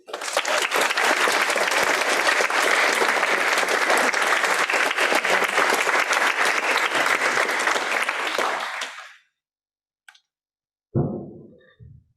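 An audience welcomes author Alexander Chee with loud, sustained applause that fills most of the span before stopping abruptly, leaving near silence broken by a short thump and faint noises.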